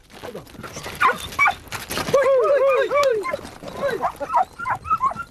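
Hunting dogs chasing rabbits yelp and bay excitedly in short, rising cries, mixed with hunters shouting outdoors.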